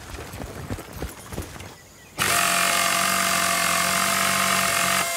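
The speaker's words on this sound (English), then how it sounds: "That's a power tool you've got there. Hold on to it. You can use it to fix any broken vehicles." A power tool whirs loudly and steadily as a vehicle is repaired in Battlefield: Bad Company, kicking in abruptly after a few seconds of quieter clattering and holding a constant mechanical drone.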